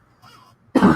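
A single sharp cough bursts out near the end after a faint breathy throat sound.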